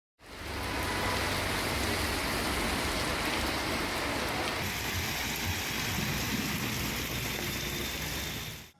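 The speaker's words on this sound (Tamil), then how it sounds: "இடி மின்னலுடன் கனமழை பெய்தது" Heavy rain pours with thunder and lightning over villages around Vaniyambadi in Tirupattur district, Tamil Nadu, a steady dense roar of drops with no break across the whole stretch and no voices.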